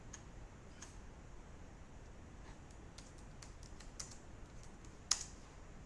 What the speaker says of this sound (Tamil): அதே நேம் இங்கே தமிழில் டைப் பண்ணிக்கிறேன்.